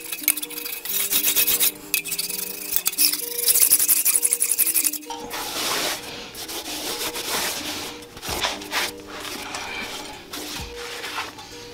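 A blade scrapes old gasket material off an engine block deck at a 45-degree angle, giving close, rasping strokes in irregular bursts, harsher at first and then in shorter scrapes and taps, with no voices.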